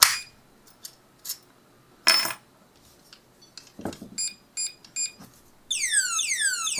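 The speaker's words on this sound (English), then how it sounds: "put this so that the alarm is turned on" A padlock's built-in anti-tamper alarm, armed and then set off, opens with scattered metallic clanks and clicks, and after some quiet handling it breaks into a loud, piercing warbling siren that keeps sounding.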